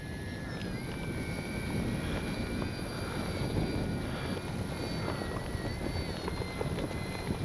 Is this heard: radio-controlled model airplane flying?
yes